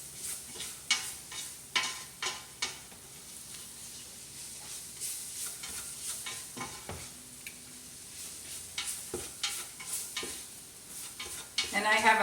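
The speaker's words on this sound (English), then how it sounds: "We just want to toast that" Flour and garlic toasting in a pan for chicken corn chowder, with steady sizzle and repeated scraping stirs of a utensil against the pan, close and clear, no voices.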